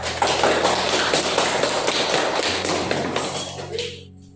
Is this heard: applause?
yes